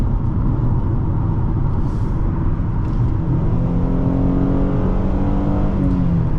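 A 2014 Ford Taurus Police Interceptor with the 3.7L engine accelerates hard and steadily, its engine note climbing through rising, continuous revs heard from inside the cabin.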